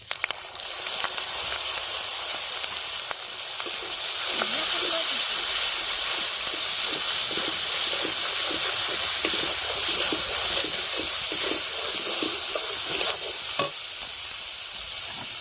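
Spice paste frying in a hot pan, a steady close sizzle with soft stirring scrapes and bubbling pops throughout, moderately loud and unbroken.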